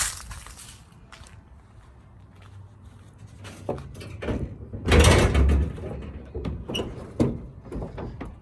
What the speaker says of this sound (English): Let's look under the hood.